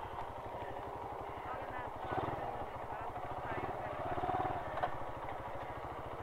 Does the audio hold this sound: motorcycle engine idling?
yes